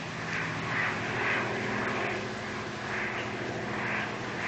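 A propeller airplane drones overhead at night, its engine hum swelling and fading in slow pulses as it passes, steady and fairly loud with no voices.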